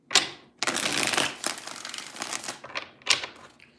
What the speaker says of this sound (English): Let's get 3 shuffles for the Saggy.